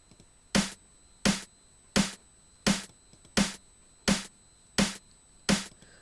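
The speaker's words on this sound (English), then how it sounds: "And then what I did is I laid another snare on top of it" Layered snare drum hits, a second deeper snare stacked on the first, strike eight times at an even, fairly quick pace, each crack sharp and loud with a short decay and a faint steady high tone in the background.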